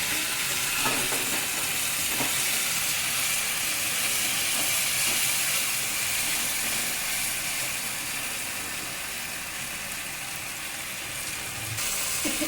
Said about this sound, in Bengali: সয়া সস দেওয়ার পর এতে আমি চিকেন ভেজে রাখা চিকেনগুলো দিয়ে দিলাম।